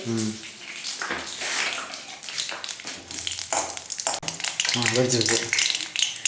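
Hot oil crackles and spits as half a spoon of mustard seeds splutter for tempering, a busy frying sizzle with a voice talking over it at times.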